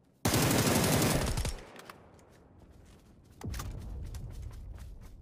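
An automatic weapon firing in the video game PUBG, played on console: a loud, rapid burst of fire, a short lull, then a second, more distant stretch of automatic gunfire.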